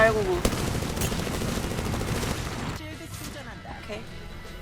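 Nemesis rifle gunfire in Apex Legends, rapid bursts of shots rattling loudly for a few seconds before easing into quieter game sounds, with a player's voice calling out briefly at the start.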